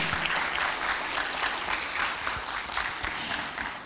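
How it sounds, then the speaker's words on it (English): An audience at the Climate Impact Innovations Challenge 2023 grand finale applauds, with steady, full crowd clapping that holds evenly before easing slightly near the end. "let's all give a big round of applause for the Climate Impact Innovations Challenge 2023 Grand Finale"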